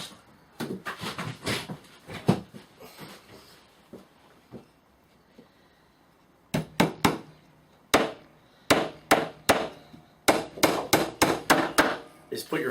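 A small hammer drives pin nails into a wooden flywheel for a pump drill: sharp close taps in quick bursts, with pauses between nails and faster runs of strikes near the end.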